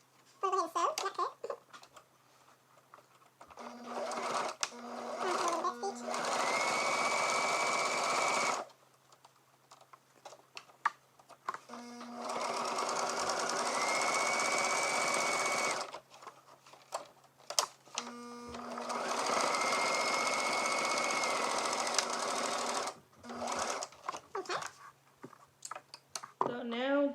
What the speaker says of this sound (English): We're going to go ahead and sew, not cut.